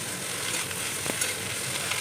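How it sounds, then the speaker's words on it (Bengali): Cut bottle gourd leaves frying in a pan while being gently stirred, a continuous close sizzle with faint scraping touches and no talk. "তারপর একে একে কেটে রাখা লাউ পাতাগুলোকে দিয়ে দিলাম, হালকা নাড়াচাড়া করে"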